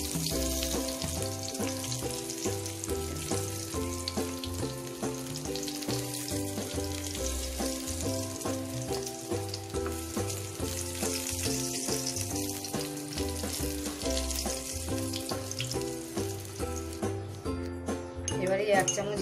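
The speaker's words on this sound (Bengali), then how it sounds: "এই বেগুনটা একটু হালকা করে ভেজে নেব," Eggplant slices fry in mustard oil in a pan, a steady sizzle and hiss under music, with occasional clinks of a utensil against the pan.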